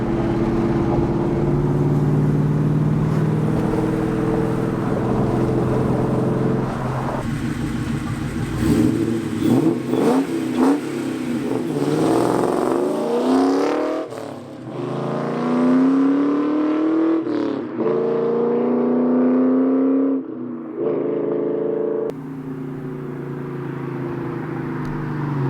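A Ford Mustang with a 2V engine and aftermarket exhaust makes repeated flybys, the engine note rising loud as the car approaches, revving and sweeping in pitch as it passes, then fading into the distance.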